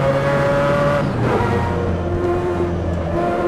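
Mazda 787B race car in the Assetto Corsa game, heard from inside with a loud, muffled engine drone and a prominent whining gearbox tone that steps down in pitch as the revs change, steady and close.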